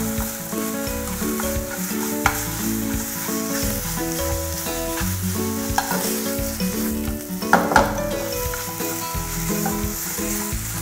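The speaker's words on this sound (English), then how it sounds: "you would always use your spoon just to try to break up the mince" Mince sizzling and frying in a pan while a spoon breaks it up, steady crackling sizzle with intermittent scraping stirs and clinks, close and alone.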